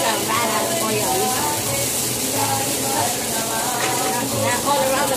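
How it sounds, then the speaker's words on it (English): Butter sizzles in a frying pan on the stove, a steady close crackling hiss throughout, with a voice talking over it. "I have my butter on the fire"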